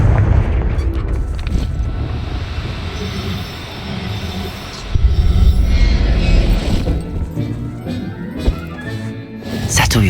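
Confringo fire spell bursts in the video game Hogwarts Legacy, a heavy booming explosion midway through a dense, rumbling game soundtrack with scattered crackles and a later sharp pop.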